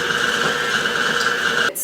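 Stand mixer steadily churning chocolate chip cookie dough with organic vanilla extract and chocolate chips, a continuous whirring motor hum with a tonal whine that runs unbroken and then cuts off abruptly near the end.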